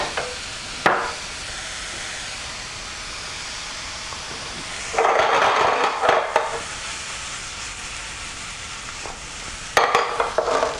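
Garlic sautéing in oil in a pan for peppered steak, a steady broadband sizzle with louder bursts of stirring and scraping around the middle and near the end, no talk.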